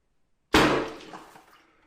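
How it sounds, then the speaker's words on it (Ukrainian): A single sudden whooshing blast from a pneumatic plunger followed by a short gurgling rush of water draining away, close and loud, then fading. "Проходить удар і все починає гарно стікати"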